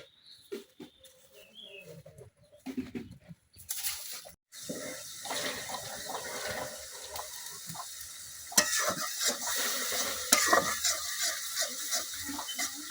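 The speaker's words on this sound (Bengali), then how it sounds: "এখন মশলাটা কিছুক্ষণ কষাই নেম।" A spice paste being fried down in a pan for a puti fish and Malabar spinach curry: near-silence at first, then a continuous close sizzle with repeated scraping stirs that grows louder toward the end.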